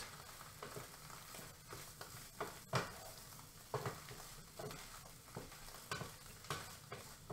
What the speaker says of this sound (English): Alright, shrimp stirred in.